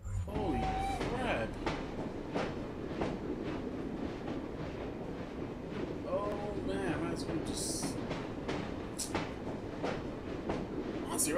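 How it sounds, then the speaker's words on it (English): A moving train in Assassin's Creed Syndicate rumbles steadily with rhythmic clacking and occasional high squeals, while a person talks and exclaims over it. "the train's going"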